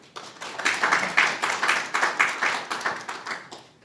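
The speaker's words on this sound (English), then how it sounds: "a warm round of applause to him" A small audience at an art exhibition and book launch claps warmly for a speaker, steady overlapping hand claps rising quickly then tapering off toward the end, fairly close and alone without talk.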